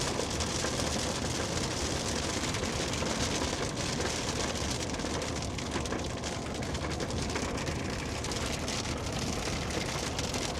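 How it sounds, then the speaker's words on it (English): Rain drums steadily on a storm chaser's truck, a dense, close patter of drops on the roof and body that continues evenly throughout with no talking. "now that it started raining"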